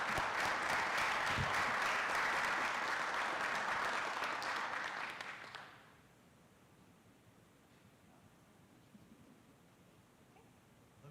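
Steady applause from attendees at a city council meeting, filling the room for about five seconds, then stopping abruptly and leaving quiet room tone.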